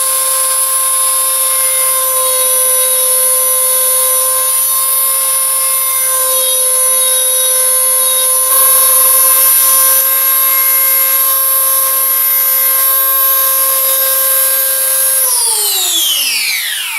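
A power saw cuts half-inch Baltic birch plywood to rough length in a workshop, giving a loud, steady high whine that holds for about fifteen seconds before the motor spins down with a falling pitch.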